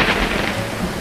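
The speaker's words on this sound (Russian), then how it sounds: "Вот бы выключить этот дождь." Steady rain falls in an animated cartoon, a dense hiss of drops hitting surfaces with low rumbling underneath, continuous and fairly loud throughout.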